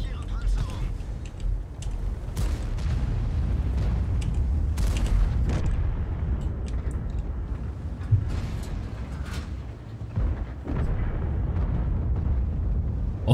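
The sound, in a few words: tank gunfire and explosions in video game World of Tanks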